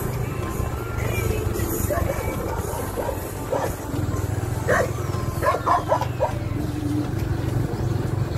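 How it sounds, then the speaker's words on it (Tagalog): Several dogs bark and yip at a moderate distance in a provincial street in Ronda, Cebu, scattered short barks over a steady rumble of passing cars and truck engines. "daming aso"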